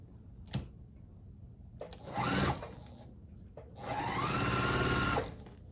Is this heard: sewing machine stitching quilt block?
yes